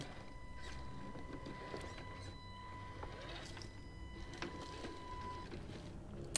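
An HB Toys R1011 RC crawler truck, an update of the Chinese TRX-4, climbs over stones: a faint, steady electric motor whine with light clicks and rattles throughout, quiet and close.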